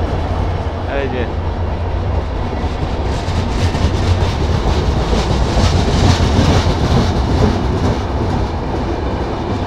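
A late Dhumketu Express pulls into a station, its loud rolling rumble and wagon clatter building steadily over the clip, with people talking nearby on the platform.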